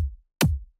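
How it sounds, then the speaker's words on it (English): Kick drum samples in a music production beat, two isolated deep thumps, the first with a low boom and the second with a sharp click attack before its low tail, separated by silence. "As usual, I start my project out with my drums. So I start with a kick."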